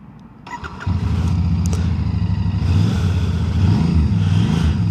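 A Royal Enfield Bear 650 motorcycle engine cranks and fires, then settles into a loud, steady idle with a deep exhaust note, briefly revving up near the end.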